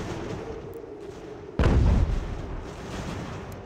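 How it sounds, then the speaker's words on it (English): Cannon fire in the video game Ultimate General: American Revolution, a single heavy boom bursting out midway over a low battlefield rumble, then fading into the ongoing din. "We already have cannons firing,"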